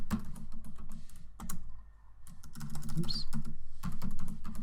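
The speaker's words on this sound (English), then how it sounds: "You can type it manually." Manual typing on a computer keyboard while entering items into a custom list in Microsoft Excel, with close, crisp irregular key clicks in quick runs broken by brief pauses and a short spoken word.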